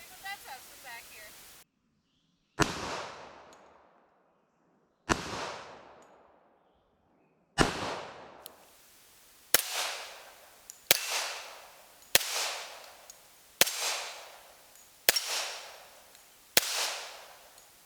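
Sharp gunshots from a Remington R1 1911 pistol, eight loud cracks each with a decaying echo: three spaced shots, then five in a quicker steady string, with a brief voice at the start.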